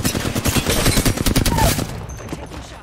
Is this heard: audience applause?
no